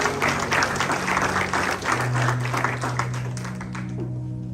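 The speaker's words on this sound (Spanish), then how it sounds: "Un aplauso para los modelos del día de hoy" Congregation applauding models at a church service, a moderate wash of clapping from many people that gradually fades, with a faint sustained tone underneath.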